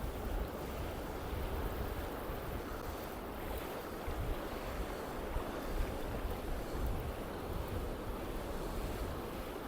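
Sea surf at a beach while fishing, a steady broadband roar of breaking waves mixed with wind buffeting the microphone.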